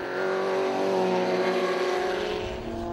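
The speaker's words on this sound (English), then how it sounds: "Now it's the VX220s. They're still having a battle with Graham Walsh" Vauxhall VX220 race cars at Silverstone, a loud, sustained engine roar passing close by as the racing pack battles, with the pitch shifting slightly as the cars pass.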